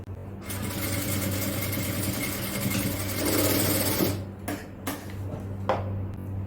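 A sewing machine stitches a shoulder seam in a continuous close whir for about four seconds, then stops and gives a few short bursts as the fabric is adjusted.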